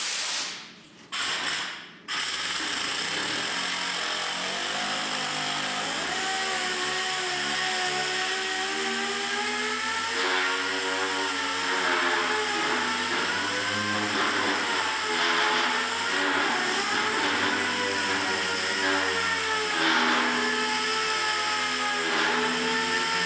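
A power tool unbolting workbenches, a loud continuous whine that shifts slightly in pitch as it runs after a couple of brief starts at the beginning, close and sustained with no talk.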